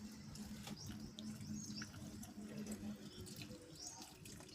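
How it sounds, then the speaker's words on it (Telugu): Water poured onto freshly planted pots topped with small stones, a faint steady trickle and splash with scattered drips, quiet and without voices. "నీళ్ళు పోస్తున్నామండి"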